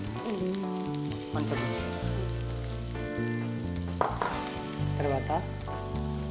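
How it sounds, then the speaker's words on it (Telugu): Onion, ginger garlic paste and green chilli fry with methi leaves in a pan for methi chicken, giving a steady close sizzle under background music, with a brief spoken voice. "నేను వేసిన onion, ginger garlic paste, green chilli మంచిగా ఫ్రై అయిపోయింది"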